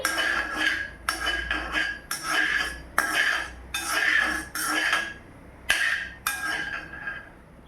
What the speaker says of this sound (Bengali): একটু ভালো করে নাড়াতে হবে।